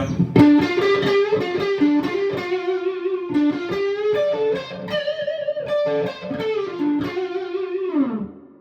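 A warm, slightly overdriven electric guitar plays a bluesy lead line with bends and sustained notes, alone and fairly loud.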